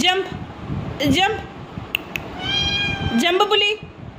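A cat meows twice, clear and close, with drawn-out wavering cries separated by a short pause.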